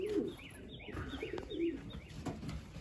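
Young 2021 racing pigeons coo softly at close range outdoors during their first days out flying, with several low repeated coos and a few light chirps over quiet background noise.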